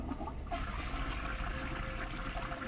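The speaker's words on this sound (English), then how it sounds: "Flush." A toilet flushing in the stealth video game Perception, a steady rush and trickle of water that runs continuously and fairly quietly, with no voices over it.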